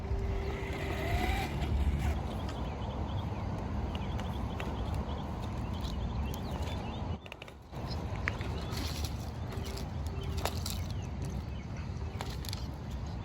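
A 1989 Tamiya Mud Blaster RC truck drives off-road, crushing pine cones, with a steady motor whir under irregular crunching and pattering clatter close by, broken by a brief lull midway.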